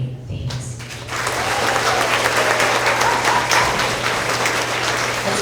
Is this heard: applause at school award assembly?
yes